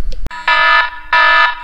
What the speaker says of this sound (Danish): Der gik alarmen på de 11.